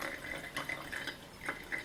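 Dirty paint water being poured off into a fresh jar, a faint light trickle and splash of liquid with small bright bursts, quiet and close with no talking.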